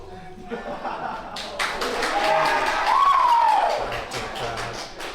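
Crowd at a university Valorant esports tournament swells into a broad roar of cheering and applause that builds toward the middle and then eases off, with voices mixed into the noise.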